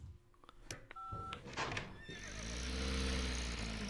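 A horse whinnies in the video game Star Stable after a few electronic beeps, the neigh rising loud and drawn out toward the end with low hoofbeat-like rumble underneath.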